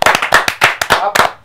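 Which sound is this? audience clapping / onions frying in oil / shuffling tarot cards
audience clapping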